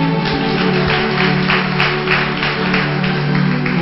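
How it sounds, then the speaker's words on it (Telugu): An audience at a church gathering claps steadily, a dense wash of hand clapping that runs throughout over sustained music tones. "చప్పట్లు కొట్టండి."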